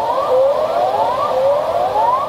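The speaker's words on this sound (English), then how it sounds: "Sirens echoed" Wailing sirens in the streets of Santiago rise repeatedly in pitch, sweeping upward in steady cycles, somewhat distant and echoing.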